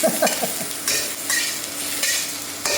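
Carrots and onions stir-fry in a wok on an induction burner, the hot sizzle surging in bursts as a utensil scrapes and tosses the vegetables, close and fairly loud.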